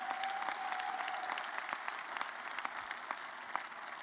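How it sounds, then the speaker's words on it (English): Audience applause for Gary Williams at a Maryland men's basketball introductory press conference, a steady, even patter of many hands clapping that carries on for several seconds without talk. "How about a round of applause for Gary?"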